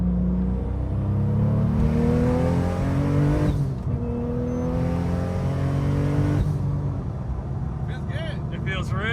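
Porsche 911 Turbo, a rebuilt car, accelerating hard in third gear with a loud, steady engine note climbing in pitch, dropping briefly at a shift and rising again, with people talking over it near the end.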